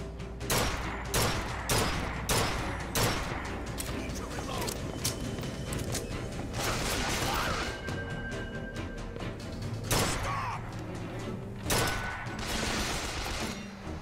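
A defensive turret in BioShock Infinite fires in rapid bursts of sharp, repeated shots amid battle clatter, moderately loud, with a voice talking in between.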